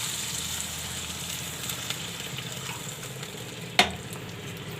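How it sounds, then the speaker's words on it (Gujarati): A glass of water goes into a hot pan of corn upma, making a steady close sizzling hiss. A single sharp metallic clank sounds near the end. "હવે આપણે એક ગ્લાસ પાણી નાખશું"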